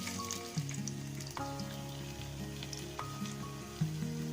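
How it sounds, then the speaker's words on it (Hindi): Fish pieces fry in hot oil, giving a steady, faint sizzle with soft crackles and occasional small pops, with no voices. "तो ऑयल हमारा गर्म हो गया है। अब इसमें हम फिश फ्राई कर लेते"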